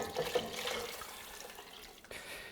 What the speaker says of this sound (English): So now we can add these 6 cups of water.